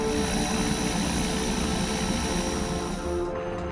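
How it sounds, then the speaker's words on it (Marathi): An Indian Army Aviation Corps helicopter serving troops on snowy border posts, its engine and rotor making a loud, steady, continuous roar that eases slightly near the end. "या कोरचे पायलट्स आणि त्यांची हेलिकॉप्टर्स बर्फालेल्या सीमांवर तैनात जवानांच्या सेवेसाठी चोवीस तास तत्पर असतात"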